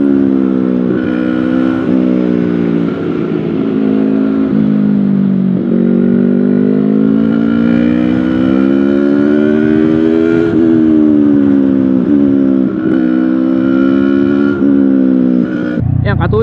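A motorcycle engine held at high RPM in 5th gear drones steadily and loudly, its pitch rising and falling slightly with throttle over a constant wind rush, heard up close while riding.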